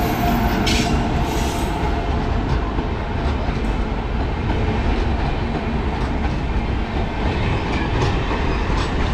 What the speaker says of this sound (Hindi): 2424 डिब्रूगढ़ राजधानी।